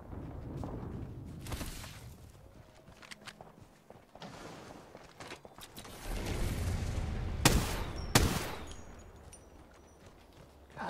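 Gunfire in the video game Apex Legends: two sharp, loud shots crack out close together near the end, over a bed of footsteps and busy game noise.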